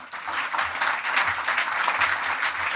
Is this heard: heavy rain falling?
no